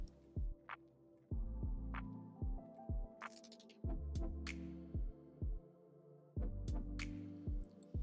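A sewing machine edge stitches the facing of a wrap top, running in several steady, humming bursts of rapid needle thumps with short pauses between them, close and moderately loud with no talking.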